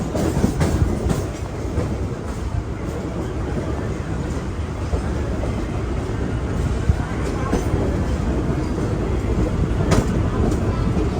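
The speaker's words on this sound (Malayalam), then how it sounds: "ഈ ട്രെയിൻ ഇപ്പം തന്നെ വേറൊരു ഭാഗത്തോട്ട് പോകും" A local train at a CSMT railway station platform in Mumbai gives a loud, continuous rumble with rail clatter and scattered clanks, while a person talks nearby.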